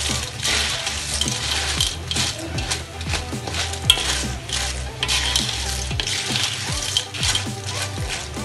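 Siput snails sizzle and rattle in a hot pan as they cook, shells clicking and clinking steadily against the metal under a constant frying hiss, close and fairly loud, with no talking.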